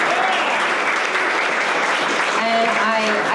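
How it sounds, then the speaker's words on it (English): A crowd applauds Mayor Noble and Senator Skoufis at an evening community gathering for an Ulster and Dutchess Counties assembly member. The clapping is loud and dense, holds steady throughout, and a voice speaks over it near the end. "So big round of applause again for Mayor Noble and Senator Skoufis."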